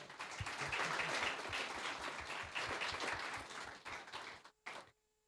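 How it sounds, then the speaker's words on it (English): An IT meetup audience claps for a speaker, a dense, lively burst of applause that holds for about four seconds before tapering off and stopping abruptly, followed by a brief late clap. "Please give another round of applause for Juan."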